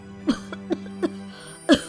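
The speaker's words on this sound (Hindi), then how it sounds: "और ये इतनी खांसी क्यों आ रही है तुझे?" A sick mother who has been coughing up blood gives four short, hoarse coughs, three fairly evenly spaced and a louder one after a brief pause, close by with no talking.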